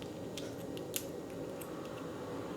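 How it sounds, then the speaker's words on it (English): Paper piercer pushing freshly die-cut craft paper out of a metal die, a faint dry papery rustle with a few soft crisp clicks and snaps close by. "I'm going to use my paper piercer and push out the extra paper and the die cut"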